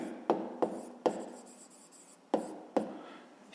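A pen scratches on paper while writing out a 5th-grade math exercise, five distinct quick strokes with short scratchy trails, close and quiet.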